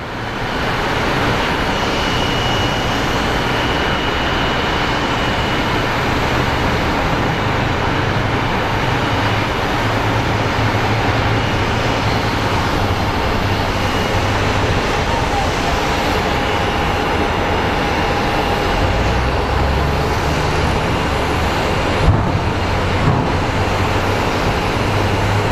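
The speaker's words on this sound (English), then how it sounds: "our next arrival is an American Airlines A320 coming from Spokane." An American Airlines Airbus A320 arriving at Phoenix Sky Harbor airport gives a loud, sustained roar of jet engines, steady and broadband throughout with a slight low rumble shift near the end.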